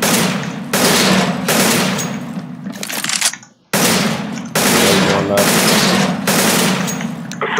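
Automatic gunfire from CS:GO rattles out in loud, sustained bursts at a practice target on a training map, with a brief pause midway before the shooting resumes just as intensely.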